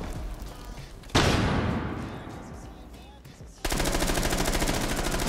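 Game gunfire in Rainbow Six: Siege, a sharp loud burst that decays over a couple of seconds, then a dense rapid stream of automatic shots.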